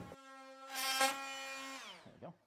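A power tool cuts back vinyl plank flooring to leave a gap, letting out a steady high-pitched whine that rises in force, holds for about a second and then winds down, with a short scrape at the end.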